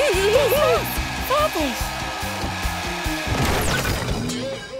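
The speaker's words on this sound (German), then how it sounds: "Der neue Föhn, auf den ich gewartet habe. Stärker als ein Düsenjet." A new hair dryer roars loudly with a steady broadband blowing noise in a children's cartoon, layered with clattering effects and musical tones, and a voice briefly speaks over it.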